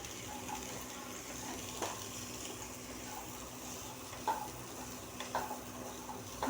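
Cooking oil hisses softly in a pan just used for frying prawns, before onions go in for fish curry. The sizzle is steady and faint throughout, broken by a few light clinks near the end.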